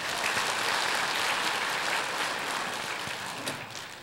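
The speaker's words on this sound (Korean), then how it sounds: "축하의 박수." A church congregation gives a steady round of congratulatory applause during a Sunday sermon, a dense sustained clapping that fills the room and tapers slightly at the end.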